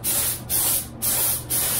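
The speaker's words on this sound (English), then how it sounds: "But clearly not enough paint is going through the gun, you know, to have the spray pattern that we want." Cheap paint spray gun spraying primer onto a Subaru Impreza, with too little paint flowing through the tip; four short hissing bursts in a steady on-off rhythm, loud and close, with no talk.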